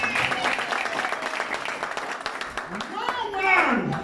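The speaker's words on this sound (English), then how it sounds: "Clap your hand for Jesus." A church congregation claps their hands for Jesus during a service, a fairly loud round of clapping with voices and a rising shout cutting in near the end.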